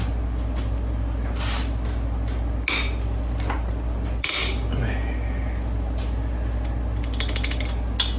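Hand ratchet loosening cam chest bolts on a Harley-Davidson Milwaukee-Eight engine: scattered metallic clicks, ratcheting and creaks with tool clinks against metal, close up over a steady low hum, ending in a rapid run of ratchet clicks.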